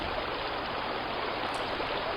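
A gentle stream of water flowing, a steady close rushing hiss that stays even throughout.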